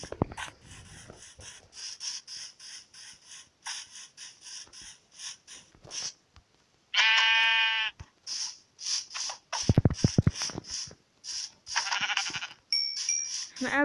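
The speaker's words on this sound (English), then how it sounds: "Sheep." Two short, nasal sheep bleats from a video game stand out among a busy run of clicks and game effects.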